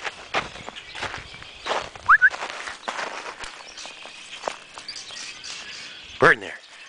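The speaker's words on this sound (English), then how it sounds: "Is there a bird in that tree?" A bird chirps from a tree outdoors, giving a couple of brief, thin calls spaced several seconds apart, moderately near, over steady rustling and footsteps on the ground, with a person's voice faintly present.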